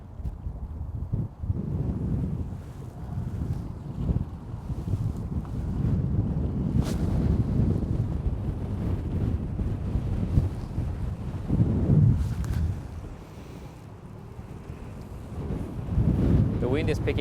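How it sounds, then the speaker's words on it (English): Wind buffets the microphone in steady gusts on a river while pike fishing from a boat in December, with people talking at times. "The wind is picking up."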